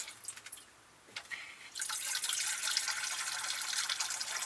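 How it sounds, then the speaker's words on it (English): Tap water runs into a cooking pot being filled for spaghetti, a steady close rushing splash that starts after a couple of faint drips and a short pause, with no talking. "Put some water into it."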